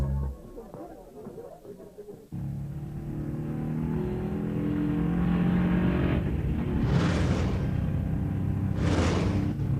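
Steady car engine hum from inside a moving vehicle, starting abruptly after a brief pause and continuing evenly with a couple of swelling whooshes near the end, under ongoing conversation.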